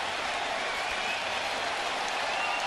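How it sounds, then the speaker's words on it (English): A baseball crowd in Boston roars steadily at a ballpark, a dense sustained wash of cheering and clapping for the whole moment. "Crowd roaring in Boston."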